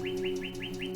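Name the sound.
birds waking and singing in the forest at dawn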